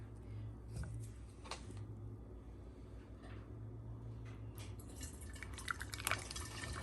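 Homemade cranberry juice pours in a soft, faint trickle with a few drips and light clinks of glass, close by and quiet, with no talking.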